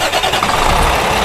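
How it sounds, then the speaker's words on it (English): A school bus engine cranks and catches, settling into a steady, loud mid-range running rumble that fills the short stretch without a break. "Just by this button, we can start the engine or we can stop the engine"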